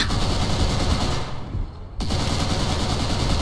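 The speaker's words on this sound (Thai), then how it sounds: "ยิงรัวครับ" Rapid, sustained gunfire from the Call of Duty: World at War video game roars close and loud in dense bursts, dipping into a brief lull midway before the shooting resumes at full intensity.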